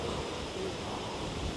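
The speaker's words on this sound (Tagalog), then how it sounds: "Ay, lakas ng hangin, boy." Strong wind rushes through a forest, a dense, steady roar that stays unbroken and fairly loud throughout, with no clear gusts standing out.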